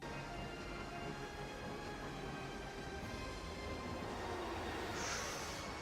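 A time-travel train in the video game Dark Cloud 2 gives off a quiet, continuous rolling rumble, with a brief high tone rising near the end.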